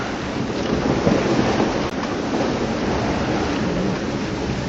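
A small sailboat at sea during the Jester Baltimore Challenge 2015: loud, constant wind buffeting the microphone mixed with the rushing wash of waves, with no talking.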